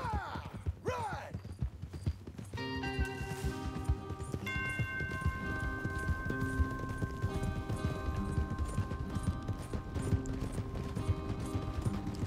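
Rhythmic clip-clop of horse hooves while riding in Red Dead Redemption 2, continuous and steady beneath sustained musical tones, with brief whooshing sounds at the start.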